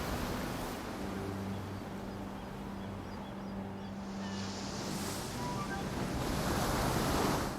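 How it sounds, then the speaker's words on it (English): Rolling, crashing ocean waves on a beach in the video game Horizon Forbidden West produce a soft, steady wash of surf with low rumbling undertones, quiet and continuous, swelling slightly toward the end. "in the game we do get rolling and crashing waves"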